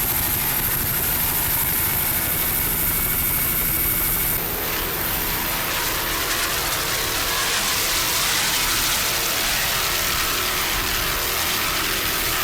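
Engine of a 40-foot Hustler offshore powerboat racing on rough Lake Michigan water, a steady broad roar that swells as the throttle opens, heard at a distance with wash and spray noise and no talk.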